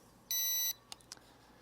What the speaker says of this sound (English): the battery on this is already saying that it's dying. But it only gives me like a beep.